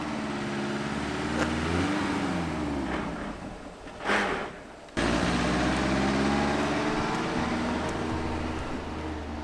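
A car engine revs while the car is reversing, the motor droning steadily with a swell of revving, a brief dip and cut near the middle, then resuming strong and close.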